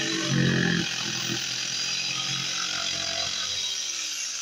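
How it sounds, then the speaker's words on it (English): An old Bosch jigsaw cuts wood for scalloping a chair seat, giving a steady, loud, close buzzing whine that stays even throughout with no talking. "Jigsaw. Love the old Bosch."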